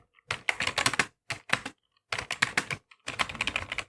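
Bursts of rapid key clicks from a computer keyboard while HTML code is typed, coming in three or four close clusters separated by short pauses, with no talking.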